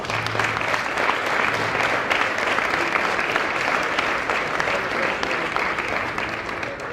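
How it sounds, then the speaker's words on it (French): Audience applause at the opening ceremony of a padel cup event, a steady, full burst of clapping from a sizable crowd that holds evenly throughout, with a faint voice underneath at times. "je crois qu'on peut les applaudir."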